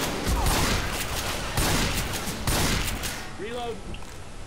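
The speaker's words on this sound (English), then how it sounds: "I got the shotgun" Shotgun blasts in the zombie shooter Left 4 Dead 2, a few heavy booming shots spaced about a second apart amid busy game noise, close and loud.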